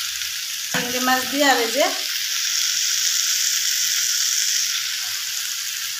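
Prawns, greens and bitter gourd frying in a pan, a steady hissing sizzle throughout, with a voice speaking briefly over it near the start.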